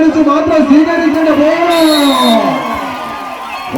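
A large crowd at a tug-of-war match cheers and whoops loudly and steadily, with a raised voice carrying over the roar.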